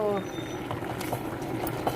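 A pot of dal with drumstick leaves bubbles on the stove, giving soft, irregular pops and gurgles close up while someone talks over it.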